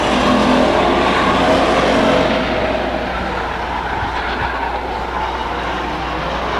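Race cars circle the Stockton 99 Speedway oval, a loud, steady wall of engine roar from several cars close by that eases slightly partway through.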